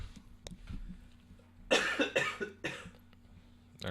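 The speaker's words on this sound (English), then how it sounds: "Everyone's just yawning and coughing." A few harsh coughs in a quick cluster, close and fairly loud, with quieter shuffling and background hum around them.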